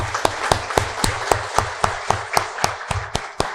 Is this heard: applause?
yes